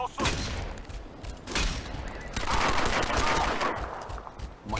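Sustained machine gun fire in the video game Crysis 2, a dense, continuous loud rattle of automatic shots with a few heavier thumps, close and unbroken across the whole stretch.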